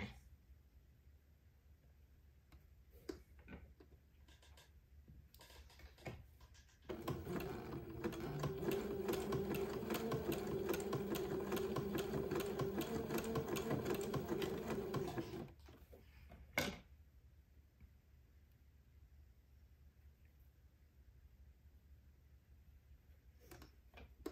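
A domestic sewing machine stitches lace onto a baby's daygown, running as one close, steady whirring burst of about eight seconds with quiet handling clicks before and after.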